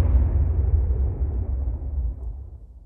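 A deep, rumbling explosion from a dropped bomb in the space game Star Citizen, heard as a loud low boom at the start that decays into a long, fading roar, with no talk over it.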